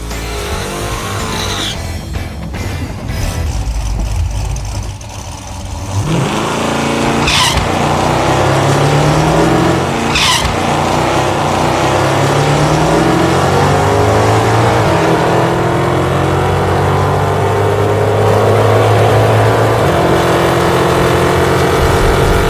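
A Hemi-powered gasser drag car stages and launches down a drag strip: loud engine revving and a brief tire squeal, then a sustained, roaring full-throttle pass that climbs through the gears with no talk.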